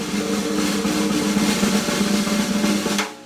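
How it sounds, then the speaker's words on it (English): A buzz roll on a drum played with sticks: a dense, continuous rattling press roll, loud and close, sustained for about three seconds before stopping. "Now we're going to do what's called a buzz roll. It sounds like this."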